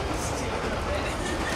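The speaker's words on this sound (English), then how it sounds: "we're on the train now" Steady rumbling noise inside a moving passenger train, a continuous broadband roar with no distinct clacks, while people talk over it.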